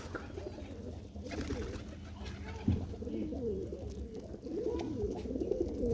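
Pigeons coo in low, throaty murmurs over a steady outdoor background, with a brief thump partway through that could be a wing flap.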